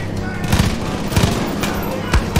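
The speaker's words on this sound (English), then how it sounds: "Oh shoot, he threw a grenade too!" Rapid gunfire with bursts of sharp shots and booming blasts from a thrown grenade in the game Far Cry 5, loud and dense, repeating through the whole stretch.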